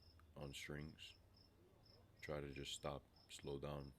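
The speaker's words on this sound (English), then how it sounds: "A little cricket." A cricket chirps in a steady, high-pitched pulsing rhythm throughout, under someone speaking calmly in the foreground.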